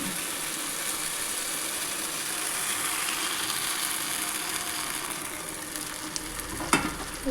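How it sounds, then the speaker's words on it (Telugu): Tomato juice going into a pan of egg curry frying on the stove, a steady sizzling hiss throughout with a brief sharper clink near the end. "ఇప్పుడు ఈ టమాటా జ్యూస్ ఉంది చూడండి ఇది వేసుకోవాలి"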